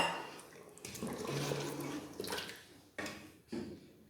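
Half a glass of water poured into simmering gravy in a cooking pot, a brief close splash and gush, then a couple of short sharp sizzling bursts.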